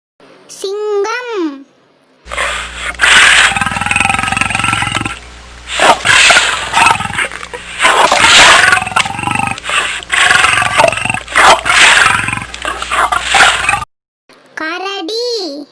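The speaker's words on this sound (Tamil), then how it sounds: "சிங்கம்," A lion roars in a long series of loud, close, rumbling roars with short pauses, while a voice is briefly heard before and after.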